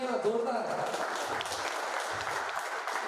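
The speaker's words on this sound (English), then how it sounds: "big round of applause once again" Applause from an audience at a cricket tournament auction day, a moderately loud wash of clapping lasting the whole moment, with voices and crowd murmur mixed in.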